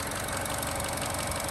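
A 2019 Chevrolet Trax with a 1.5 liter turbocharged engine idles with the hood open, giving a steady, fairly loud close-up hum and faint ticking that continues alone without any talk.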